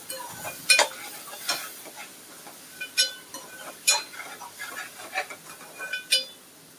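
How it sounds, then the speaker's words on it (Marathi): Ground masala paste frying in a pan, stirred with a spoon: a soft sizzle beneath a series of sharp scraping and clinking strokes at an uneven, steady pace, no talk. "आता हलवून घेऊया."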